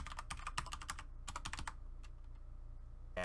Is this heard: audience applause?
no